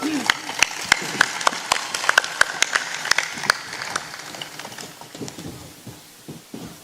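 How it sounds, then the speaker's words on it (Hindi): Hand clapping from a small group at a gathering to honour a saint, loud and fairly steady at first, then thinning and becoming irregular while voices talk underneath. "ताली तुम बजा दिया करो।"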